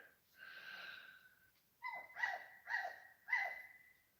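An animal calls in the dark outdoors with dog-like cries: one drawn-out howl-like note, then a quick series of short yelping barks, fairly faint and distant against a quiet night.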